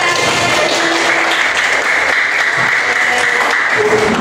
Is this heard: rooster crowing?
no